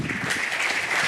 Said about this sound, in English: An applause for Andreas Kind